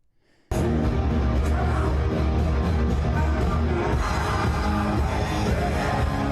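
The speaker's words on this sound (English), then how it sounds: "it sounds better because the whole crowd's singing along with him" A rock concert crowd sings along loudly and steadily with the singer, a dense wash of voices and amplified music that begins abruptly and continues without a break.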